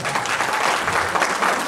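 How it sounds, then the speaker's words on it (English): An audience at a live concert in Saginaw, Michigan breaks into brief, dense applause, a steady close wash of clapping hands with no pauses. "Y'all give him a round of applause"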